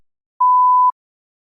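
One clear, sustained electronic tone marks the start of a spoken test answer, lasting about half a second with silence before and after.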